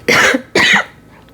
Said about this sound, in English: Felt a cough coming on.